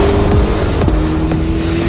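A Corvette ZR1 accelerates hard with its tires scrabbling for grip, producing a loud, close engine roar that climbs in pitch through the revs, with tire noise and no talking.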